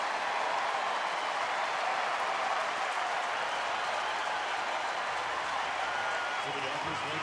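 Baseball stadium crowd cheering and applauding a deep hit to the left-center gap, a dense steady roar of many distant hands and voices, with a commentator talking over it.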